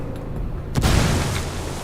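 A frag grenade goes off with a single loud, sharp blast in the Ghost Recon Wildlands video game, followed by a rumbling tail that fades gradually.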